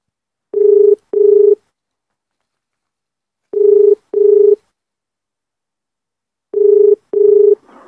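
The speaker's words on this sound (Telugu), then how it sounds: "ఎస్ఐ గారికి కూడా ఫోన్ చేసి చెప్దాము ఒకసారి" Telephone dialing tones while calling a police sub-inspector: three pairs of short, loud, clean beeps spaced a few seconds apart, with silence between the pairs.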